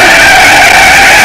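A Ferrari 458 Italia drifting, its tires skidding in a loud, sustained squeal that holds steady and close, with no speech.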